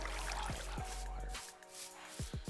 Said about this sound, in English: This water's getting loud!